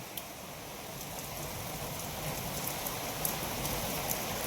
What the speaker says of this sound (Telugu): వర్షం ఇప్పుడే స్టార్ట్ అయింది